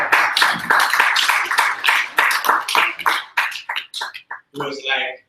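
A room of attendees at an angel investor bootcamp in Lagos claps for a guest, loose rhythmic clapping that thins and breaks up toward the end, with voices in the mix.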